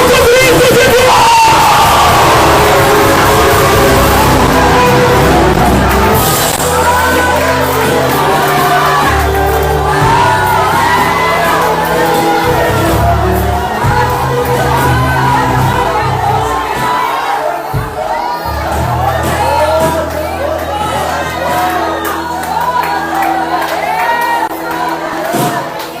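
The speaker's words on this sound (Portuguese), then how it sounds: "solta o grito de Deus" A church congregation erupts in a loud, sustained collective shout, a cry to God during a deliverance sermon, with yelling and cheering voices filling the space continuously for the whole stretch.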